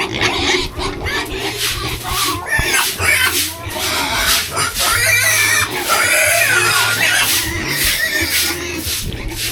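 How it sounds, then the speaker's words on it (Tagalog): Pigs grunt and oink amid scuffling and clattering, with occasional squeals and people talking nearby. "Kapag nagpapakain kami ng baboy"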